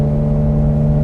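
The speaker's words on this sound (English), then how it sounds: "this is a very different sounding motor" Twin-turbocharged flat-six engine of a 2020 Porsche 911 Carrera 4S Cabriolet, heard as a loud, steady low hum with a strong sustained tone, close up and alone for a brief moment.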